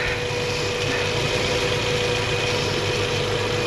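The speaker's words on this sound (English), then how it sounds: "Oh, I hear my engine." A car engine idles steadily with a continuous low rumble and a faint whine, close and unbroken, with no clear sputter.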